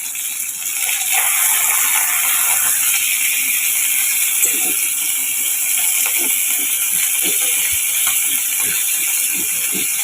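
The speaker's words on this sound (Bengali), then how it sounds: "চলো মাছটা ভেজে নিই।" Fish sizzles steadily in a hot pan for a Bengali fish curry with potatoes and beans. The close, continuous hiss is dotted with small crackles and pops, and no one speaks.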